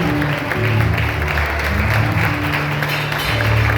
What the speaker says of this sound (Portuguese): Você pode aplaudir com muita força.